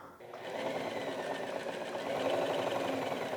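A sewing machine runs steadily to quilt a panel for a laundry bag made from leftover fabric. The motor hums evenly, close up and moderately loud, and a voice is heard briefly at the start.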